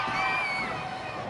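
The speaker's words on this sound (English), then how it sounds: "This crowd is on their feet." A wrestling crowd on its feet at a pro wrestling show cheers loudly and continuously, with high shouts and whoops in a dense roar.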